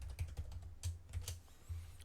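Computer keyboard keys pressed while entering a formula in Excel, giving a handful of soft, irregular clicks and taps close by, quiet and without speech.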